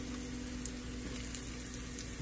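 Ginger sautéing in a pan while Japanese curry is cooked with Golden Curry mix, a faint steady sizzle with a low hum underneath and a few soft clicks, no voices.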